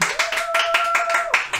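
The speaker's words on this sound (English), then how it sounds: "Just do a little clap." A small group claps briefly, a light burst of sharp, uneven hand claps with a faint sustained tone running beneath.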